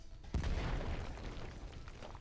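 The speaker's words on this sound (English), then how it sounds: "waves of explosions erupted, hurling its massive body into the air" Explosions in the Snowbreak video game: a sudden heavy boom that rolls into a long, rumbling blast and tails off slowly, moderately loud, with no talking.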